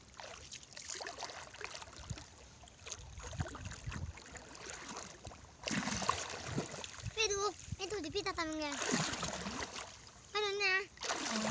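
People swimming and racing in water make steady splashing and sloshing, with children's and adults' voices talking and calling out over the water throughout.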